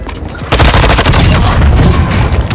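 Loud close gunfire erupts in the video game Call of Duty Warzone on Ashika Island, a dense burst of rapid shots and booms starting abruptly after a quieter moment and sustaining throughout without speech.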